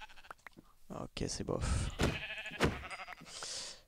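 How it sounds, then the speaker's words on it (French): Sheep bleating in the video game Minecraft, a couple of short bleats heard close up amid lively talk from players. "Mouton, ok 2 moutons, pas mal."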